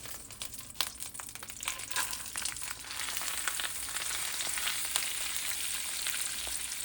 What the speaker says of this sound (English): while we pan fry our trout for a couple of minutes each side